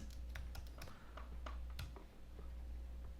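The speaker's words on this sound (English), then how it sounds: "I'm gonna type in Eli Lilly here." A search being typed on a computer keyboard: a quick, uneven run of light key clicks close by, faint over a low steady hum, with no talking.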